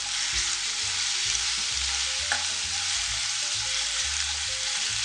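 Garlic sautéing in oil in a pan for a chicken momo sauce, a steady close hiss of frying with soft stirring scrapes and small pops throughout, no talking.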